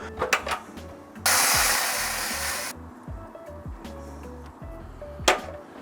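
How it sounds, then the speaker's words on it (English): A Thermapen Billows fan on a BBQ cooking pulled pork gives a loud, steady whirring burst lasting about a second and a half, set between softer clicks and knocks close by. "Hear the fans pulsing every now and again just to keep it maintained"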